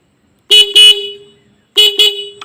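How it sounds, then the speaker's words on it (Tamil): Horn on a Pulsar motorcycle, just adjusted with its tuning screw, sounds two short double bursts, loud and close, each beep buzzing and bright, with a tiny blip at the end and silence between. "ஸோ லைட்டாக ஆங்கிள் பண்ணிட்டு இப்போ ஹார்ன் அடித்து பார்ப்போம்."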